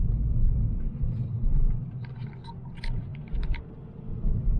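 A car climbing a mountain road toward the summit, its low engine and road rumble steady and close throughout, with a few faint light clicks from inside the cabin.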